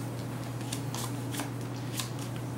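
Cards from the Pathfinder Adventure Card Game being shuffled, a steady close papery riffle and flutter running throughout over a low constant hum, with no voices.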